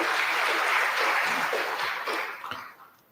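Audience applause at a public talk and discussion, a dense wash of clapping that holds steady for about two seconds before thinning out and fading at the end.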